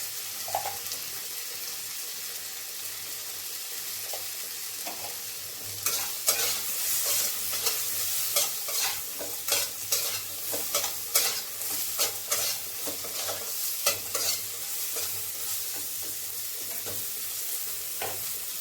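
Potatoes for a rohu fish curry with bitter gourd and eggplant sizzle in a pan. After about six seconds a spatula begins stirring and scraping in an uneven rhythm, close and clear over the steady frying.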